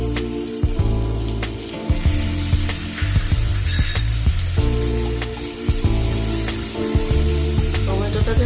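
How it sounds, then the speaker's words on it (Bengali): Chopped tomato pieces drop into hot oil with frying garlic, a loud crackling sizzle broken by stirring and scraping clatter from the pan. "রসুনটা যখন ভাজা ভাজা হয়ে আসবে এর মধ্যে আমি কেটে রাখা টমেটো টুকরো দিয়ে দিচ্ছি।"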